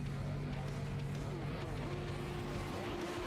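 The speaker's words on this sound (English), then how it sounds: "Oh, all right, the revs are up." Radical SR8 race cars revving together on the grid in the DownForce Legends video game, a dense continuous engine drone with shifting pitch, steady and loud, with a commentator talking over it.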